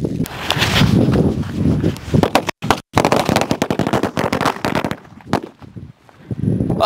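Rapid bursts of Sivakasi firecrackers exploding in loud, crackling volleys, briefly pausing and then resuming with scattered sharp bangs, close by.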